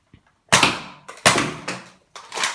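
A Nerf blaster holding eight darts, able to fire two at once, gives several sharp close snaps and clacks in quick sequence, each with a short decaying mechanical rattle.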